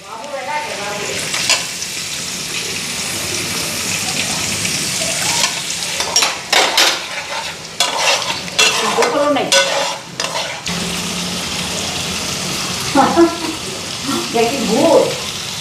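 Paneer pieces fry and get stirred in hot oil with a loud, steady sizzle and clattering spoon scrapes, while voices talk nearby in the background.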